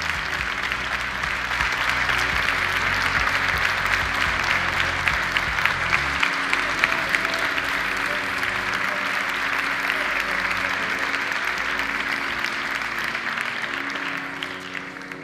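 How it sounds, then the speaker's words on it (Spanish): Sustained audience applause fills a sports awards gala hall in Mijas in 2022, a dense, steady wash of clapping that holds at full strength for about fifteen seconds before easing slightly at the end. "Recibe este fuerte aplauso, que es como un abrazo de la familia del deporte de Mijas hacia vosotros."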